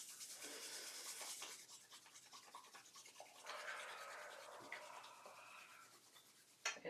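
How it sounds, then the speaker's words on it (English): Palms rubbing briskly together during a yoga session, a continuous dry swishing friction that shifts in texture midway, close and fairly quiet, with no talking. "let's take our hands and rub them together"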